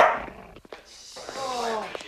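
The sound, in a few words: angry dog growling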